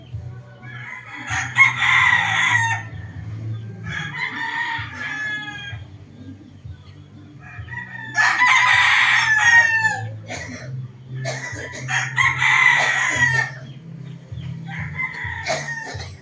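A straight-bred Kanawayon gamecock crows loudly and close by, giving about five separate crows spaced a few seconds apart, with a steady low hum between them.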